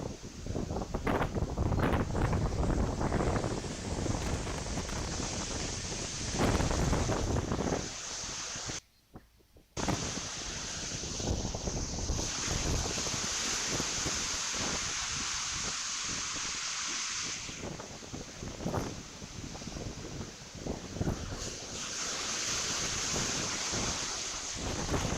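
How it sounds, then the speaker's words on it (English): Hurricane Beryl's strong wind roars continuously against the microphone, loud and buffeting, with gusty surges and a brief drop near the middle and no voices. "Man, that wind is insane."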